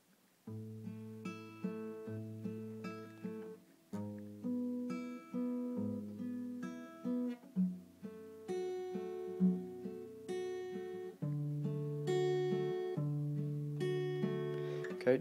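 An acoustic guitar plays a fingerpicked passage slowly, with clear separate plucked notes and chords ringing close and alone at moderate volume.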